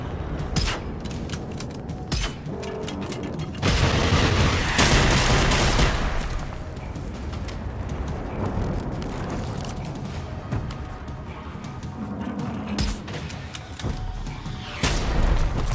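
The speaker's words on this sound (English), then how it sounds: "I'm gonna take care of this rocket launcher he's got going on, or mortar." Mortar blasts and gunfire crash through a Generation Zero firefight, heavy booms and bursts of shots arriving in waves alongside sustained rumbling, loud and close throughout.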